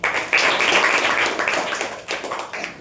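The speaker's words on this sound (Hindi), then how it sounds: "ताली मारो।" Students clapping together in a classroom, a bright burst of hand claps that runs for about two seconds, breaks off briefly and then resumes.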